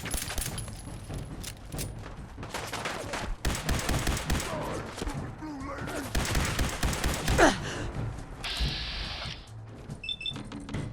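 Gunfire during Fallout 4 combat comes as repeated loud, sharp shot bursts spread across the stretch, mixed with game effects and short gaps between volleys.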